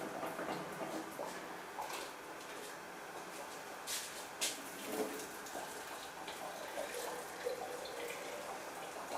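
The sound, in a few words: pouring hot water into a jar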